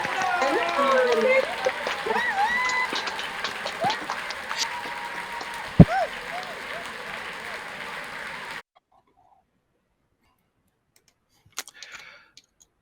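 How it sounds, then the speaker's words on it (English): A virtual graduation audience claps through unmuted microphones, with scattered overlapping clicks and patters and voices mixed in, before the sound cuts off to near silence with a few faint taps afterward. "If everybody could unmute the microphones and a round of applause,"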